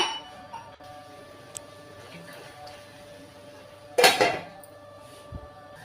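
A metal lid clanks down onto a cooking pot of brinjal curry in a home kitchen, one short loud clatter with a brief rattle, then a faint clink after, against quiet background hum.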